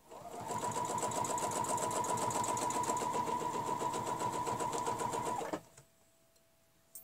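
A sewing machine runs steadily for about five seconds, stitching along a quilting ruler with a fast, even needle rhythm, then stops abruptly, leaving near-silence.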